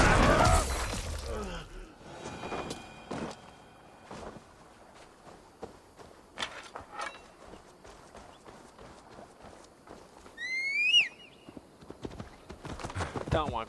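A horse in Assassin's Creed Valhalla trots with irregular clip-clop hoofbeats, and a high whinny rises near the end amid game ambience, with occasional voices.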